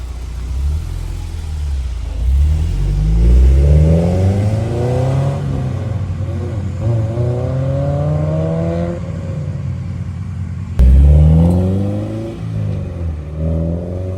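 A Honda S2000 fitted with a custom intake drives by close and loud, its engine revving up through rising sweeps, then easing off before a sharp, sudden burst of throttle near the end.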